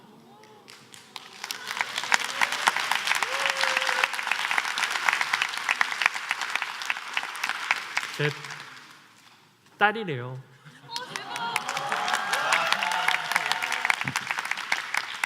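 A lecture audience breaks into sustained, even applause, which pauses while someone speaks briefly and then resumes with more clapping.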